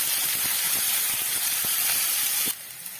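Onion sizzles and hisses in hot oil while frying for a soybean curry, a steady loud frying hiss that drops away abruptly near the end.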